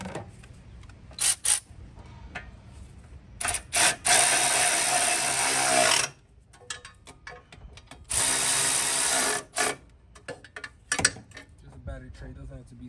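A ratchet tightens battery tray bolts in bursts of rapid clicking, two long sustained runs and several short ones, close and fairly loud, with quiet handling noises and some talk between them.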